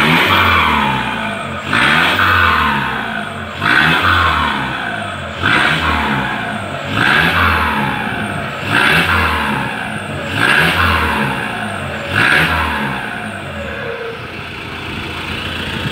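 A Chevrolet D-Max 2.5 turbo engine revved hard again and again, about eight rising surges each falling back, with a whistling turbo spool over the close, loud roar.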